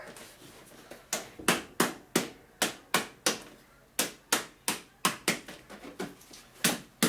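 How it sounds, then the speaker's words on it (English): Sharp, loud hammer blows strike buckled metal in a shop in quick uneven bursts, about a dozen and a half impacts with brief pauses between groups. "Hammer work"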